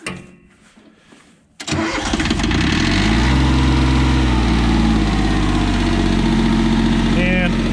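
Yanmar tractor with a power shift transmission starting up: quiet rustling, then the engine cranks and catches into a loud, steady diesel rumble close by.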